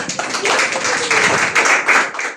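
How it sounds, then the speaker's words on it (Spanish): A congregation at a Spanish-language religious service claps together in a dense, steady burst that lasts a couple of seconds, moderately loud and close. "Denle un aplauso al Eterno por eso."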